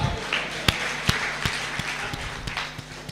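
Audience at a comedy show applauding a performer, scattered and fairly faint claps with a few sharper individual claps standing out against a soft background murmur.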